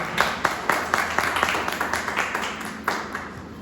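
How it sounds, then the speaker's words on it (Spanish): Audience at a climate change forum applauds three speakers, a modest patter of scattered hand claps, fairly faint and steady, with a murmur of room sound beneath. "es un aplauso para nuestros tres intervenciones"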